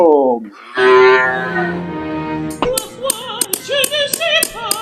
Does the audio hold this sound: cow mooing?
yes